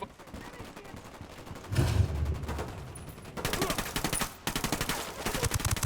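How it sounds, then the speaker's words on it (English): Bursts of rapid automatic gunfire in the video game Ghost Recon Wildlands, one heavy low thump followed by sustained crackling volleys, with brief voices in between. "Shots fired. Firing."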